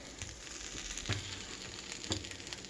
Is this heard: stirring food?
yes